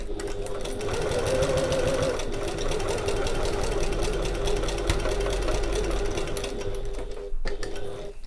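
A sewing machine runs fast and steady, basting fabric with a 1/8 inch seam allowance, its rapid mechanical whir loud and close before a brief pause near the end, with no voices.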